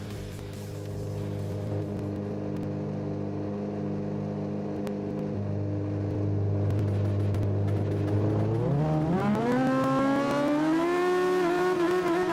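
Formula race cars at Laguna Seca idle with a steady droning hum, then the engines rev sharply at the race start, pitch climbing rapidly as several cars accelerate away loudly.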